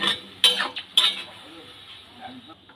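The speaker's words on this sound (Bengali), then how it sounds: "জলটা দিয়ে খুব সবজিগুলোকে সব নেড়ে চেড়ে নিলাম।" A spoon scrapes and clinks against a pan while vegetables and a little water are stirred for a drumstick-flower curry, two sharp metallic strikes followed by softer stirring, with a voice speaking faintly over it.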